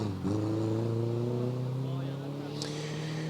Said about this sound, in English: Much more smoother, much more lower tone of the engine. Not a big exhaust note there, but nice and smooth around the corner